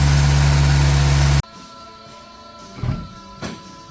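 A car engine that has not been driven in 20 years runs loud and rough, then cuts off abruptly, followed by a few faint knocks and rustles nearby.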